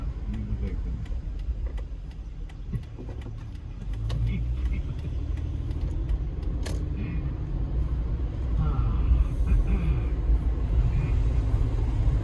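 A car rides through town in Santa Ana, California, with a steady low engine and road rumble throughout and scattered ticking and clicks from the cabin. The rumble rises a little near the end and no one talks.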